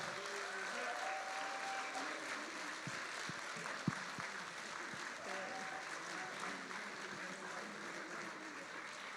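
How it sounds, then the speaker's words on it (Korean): A church congregation at a 100th anniversary cake-cutting ceremony applauds steadily, soft sustained clapping from a crowd, with a few sharper claps and a faint voice underneath. "감사의 의미로 박수와 함께 케이크 커팅 시작하겠습니다"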